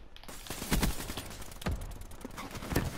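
Gunfire in the multiplayer video game Black Ops 3 sounds as a few sharp bursts spaced about a second apart over a busy, rumbling game background.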